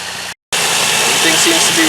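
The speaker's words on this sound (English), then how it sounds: "Let's start her up and see how she works," A Nissan Maxima engine, just fitted with an oil cooler, starts after a short gap of silence and settles into a loud, steady, close idle hum.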